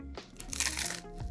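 Biting into a smoky shrimp corn taco seasoned with cumin and turmeric gives a brief, close crunch that rises to a crisp crackle midway, then fades into quiet chewing.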